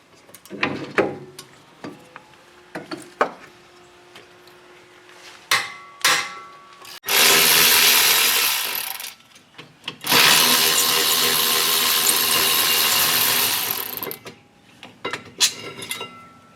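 Ratchet working the caliper bolts loose on a Subaru Forester's wheel hub, with two sustained rapid clicking runs alongside scattered sharp metallic clinks and knocks of tools, close and fairly loud.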